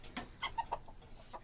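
Backyard chickens in a coop cluck softly while being fed, a few short scattered clucks and calls at moderate distance, fairly faint.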